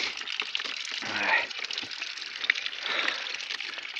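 A small mountain water source in the Lake District trickles and splashes nearby, a continuous airy rush with slight surges.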